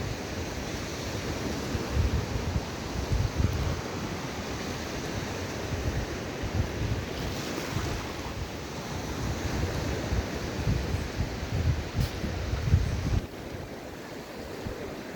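Sea surf on a beach at Prymorsk in the Odesa region, a continuous broad wash of breaking waves with wind buffeting the microphone, steady and moderately loud with no voices.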